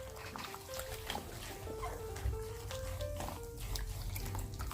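A felt shoe is rinsed in water, with soft, steady sloshing, dripping and trickling close by and faint talk underneath.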